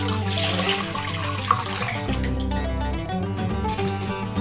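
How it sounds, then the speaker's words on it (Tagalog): Six cups of water poured from a container into a cooking pot while making buko salad ice candy, a continuous close splashing pour with a brief change in tone partway through, no talking. "ilagay ko na po itong ating 6 cups na tubig."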